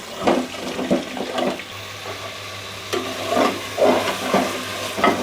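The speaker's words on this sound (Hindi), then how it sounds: "ज़ीरा वगैरह डालने के बाद 4 मिनट तक इसको अच्छी तरह से फ्राई कर लेंगे" Cumin frying in a pot of beef trotters (paye) gives a steady, close sizzle and hiss, with a few louder bubbling swells and stirring noises and no voices.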